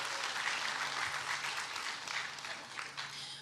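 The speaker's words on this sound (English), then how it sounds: "Yes, we can clap for that." Graduation guests clap for the current paramedic students at the BMCC summer ceremony, a full, continuous round of applause in a large room that slowly thins toward the end.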